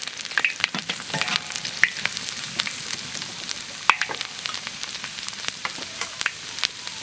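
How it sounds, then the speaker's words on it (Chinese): Fatty pork sizzles and crackles in hot oil in a wok, a dense close hiss broken by sharp pops and spatters, with occasional stirring clinks and no talk. "油温烧热，下入肥肉，先让肥肉把这个油炒出来"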